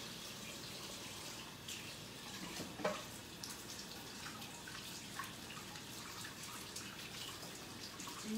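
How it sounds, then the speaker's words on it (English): Steady tap water runs into a mixing bowl as it is washed at a kitchen sink, a continuous moderate splashing hiss with a few small clinks and drips, no voices. "So I'm just going to wash my bowl here."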